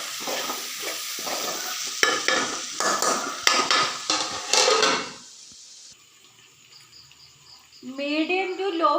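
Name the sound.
stirring chopped capsicum in a pan, then covering it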